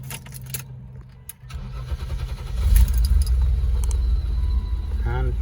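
A BMW E34 engine cranks and catches near the 1.5-second mark, then settles into a steady, loud idle rumble that runs to the end, with light clatter at the start.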